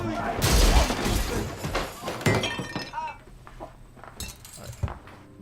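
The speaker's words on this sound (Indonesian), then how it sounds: "mereka menghancurkan guci abu mendiang putrinya" A ceramic funeral urn is smashed and shatters, with a loud crash and breaking pieces followed by scattered clinks and thuds, while voices talk over the scene.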